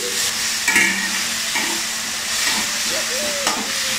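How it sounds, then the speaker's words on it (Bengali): Egg curry masala with green chillies fries and sizzles in a pan as it is stirred, giving a steady hiss with occasional scraping and clinking of the spoon against the pan. "আবার মশলাটা একটু কষিয়ে নিচ্ছি আমি"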